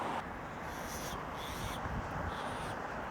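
Harsh, agitated bird calls ring out in a few separate bursts over a steady hiss of outdoor background, during urban foraging for cactus fruit in Hawaii.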